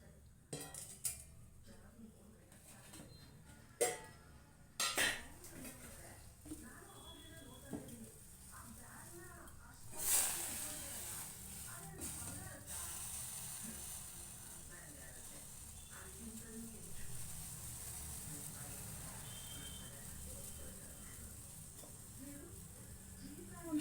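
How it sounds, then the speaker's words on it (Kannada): Mustard seeds and curry leaves spluttering in hot oil in a small pan, a soft steady sizzle with occasional pops and clinks of utensils, while someone talks over it. "ನಾನು ಸಾಸಿವೆ ಕದ್ಬೇನ್ ಸೊಪ್ಪು ಒಗ್ಗರಣೆ ಕೊಡ್ತಿದ್ದೀನಿ"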